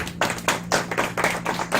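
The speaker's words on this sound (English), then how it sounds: "Give another round of applause for all of you." An audience at a school program gives a brisk round of applause, with fast, even, close claps that continue without a break.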